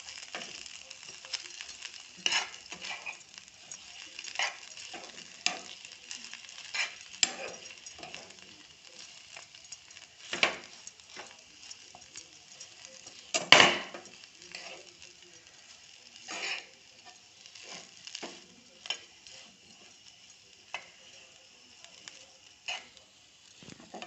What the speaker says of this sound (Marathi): ह्या पॅनमध्ये तुपात आपण हा बटाटा परतून घेऊ